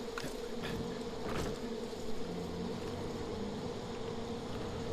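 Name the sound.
hornets and bees buzzing in Far Cry 5 video game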